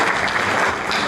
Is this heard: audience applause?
yes